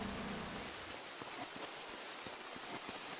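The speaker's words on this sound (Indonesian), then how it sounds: "Hujan." Rain in the video game GTA 3, a steady faint hiss of falling rain with scattered soft drop patters throughout, continuous and even with no voices.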